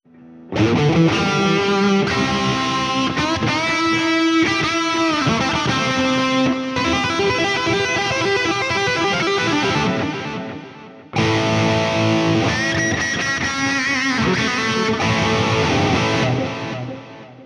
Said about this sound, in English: Perhaps we do just a regular straight ahead digital delay.